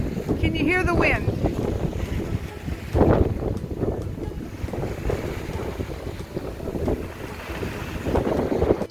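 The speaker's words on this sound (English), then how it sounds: "Can you hear the wind?" Strong wind gusts roar steadily around a sailboat lying at anchor in a Bahamas anchorage near Norman's Cay, with rushing noise and water movement filling the whole stretch.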